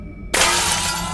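A glass object shatters in the horror game Visage, a sudden loud crash after near silence that trails into a bright, scattering tinkle of shards.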